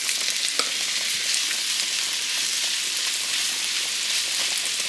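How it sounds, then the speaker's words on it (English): Steak bites searing in a hot pan with butter, a dense, even crackling sizzle close by with a few sharp pops and no talking over it. "now that our pan's nice and hot, we're going to go ahead and add our steak bites in"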